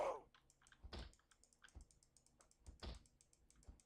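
A computer mouse clicking during play of the zombie survival game Project Zomboid, with soft, irregular taps and clicks mixed with light key-like clatter, faint and close with no voices.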